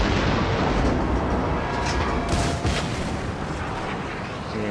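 Deep, rolling booms from the main battery of a Tier 7 US battleship, the Colorado, in World of Warships, blending into a continuous loud rumble with no clear pauses.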